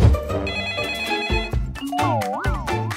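Telephone ringtone ringing, a loud close melodic electronic tone with warbling pitch sweeps in quick repeated bursts, alone without talk.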